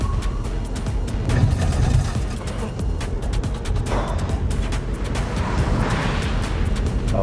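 An MG EX4 racing car is driven hard up the Goodwood hill climb, a heavy, roaring rumble with rushing wind noise filling the clip throughout.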